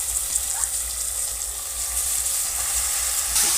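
Chicken sizzles in a pan with onions and green chillies, a steady loud frying hiss with light stirring scrapes and no talking.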